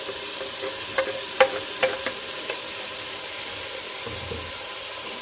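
A few soft scraping and tapping clatters from a stirring spoon over a steady background hiss of ground chili paste sizzling with mutton and turnips in a pan, with no voices.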